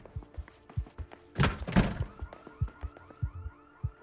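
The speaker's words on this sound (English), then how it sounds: "I need a car alarm or something to go off to lure them for me." A car alarm goes off in a video game, heard as a pair of loud thuds followed by a repeating electronic whooping wail, with scattered game sounds around it and no speech.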